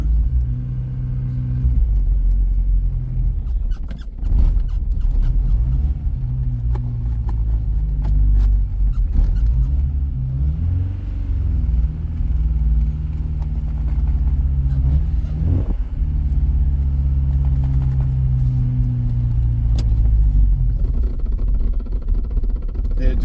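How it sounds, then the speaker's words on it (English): Porsche 944 engine running at a rough, low idle, a steady deep rumble with uneven surges and small bumps, close by, with faint background sounds. "It just has a rough, really rough, low idle."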